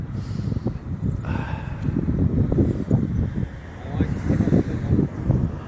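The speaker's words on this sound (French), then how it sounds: "Oui, il y a beaucoup de vent" Strong wind buffets the microphone in heavy, uneven gusts at an air show featuring the Patrouille de France and Rafale jets, with faint voices underneath.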